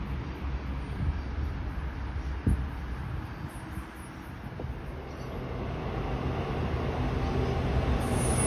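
Blue Mountains passenger train, V-set intercity cars V36 and V31 bound for Blacktown, rumbles past near Blaxland and Warrimoo with a steady, loud rolling roar. Wheels clank briefly, and the sound swells slightly toward the end.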